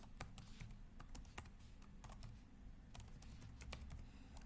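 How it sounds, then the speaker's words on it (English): Quiet, steady computer keyboard typing as values are entered into a web form, a fast run of light clicks with no talking. "All right, type some values."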